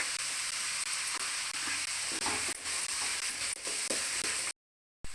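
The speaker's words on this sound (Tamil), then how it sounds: "வெங்காயம் வதங்குறது" Onions sauté in a pan while cooking a quail pepper fry, a close, steady frying sizzle broken by a few stirring scrapes, cutting off abruptly near the end.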